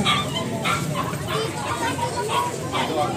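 Dogs bark and yip in short repeated bursts at a barangay vaccination drive for puppies and adult dogs, fairly close, with chickens clucking and people talking in the background.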